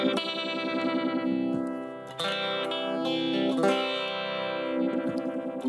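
An electric guitar played through a Zoom G1X FOUR multi-effects pedal with an effect engaged, giving a thick, saturated, sustained tone of ringing held notes that shift partway through, loud and close with no talking.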